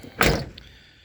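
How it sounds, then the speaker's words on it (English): Door of a 1978 Chevy long bed truck shuts with a single solid thunk, close by and loud, followed by a short fading rattle and no talking. "that door shuts real good now"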